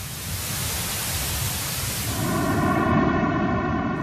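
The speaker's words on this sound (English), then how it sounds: "The sound of the audio afterglow, on the other hand, comes through with a vaguely musical quality." Steady broadband hiss like cosmic static, the early-universe Big Bang afterglow rendered as sound, continuous and fairly loud, shifting midway to a faintly tonal, humming texture.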